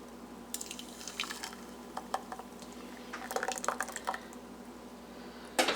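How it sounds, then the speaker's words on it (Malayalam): Blended rice flour batter for steamed Malabar kinnathappam is poured into a vessel, giving soft, irregular splashes and drips with a few louder wet plops in a quiet kitchen. "ഇനി ഇത് നമുക്കൊരു പാത്രത്തിലേക്ക് ഒഴിച്ചു കൊടുക്കാം."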